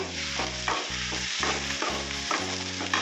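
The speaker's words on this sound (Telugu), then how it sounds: "నూనె వేడెక్కాక ఐదు పచ్చిమిరపకాయలు బాగా వేయించుకున్నాము" Five green chillies frying in hot oil, giving a steady close sizzle broken by rhythmic scraping and stirring strokes against the pan, no talking.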